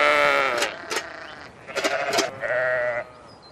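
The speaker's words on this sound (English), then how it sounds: "Sheep outnumber people by 75 to 1 in Cumbria." Sheep in Cumbria's Lake District bleat repeatedly and close by, several wavering calls overlapping, with sharp rustling or knocking sounds between the calls.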